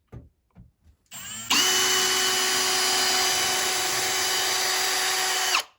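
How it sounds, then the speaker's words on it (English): A few soft knocks, then a cordless drill whirs with a steady high whine for about four seconds while drilling a pilot hole for a curtain rod bracket, before stopping. "we're going to drill 2 pilot holes"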